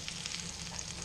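Butter sizzles steadily in a hot pan holding a roast haunch of venison, giving a close, even crackle with tiny pops throughout.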